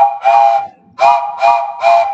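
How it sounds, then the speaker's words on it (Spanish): A steam train whistle sounds four times: one long blast, a short pause, then three more blasts in quick succession, loud and close. "El silbato de un tren."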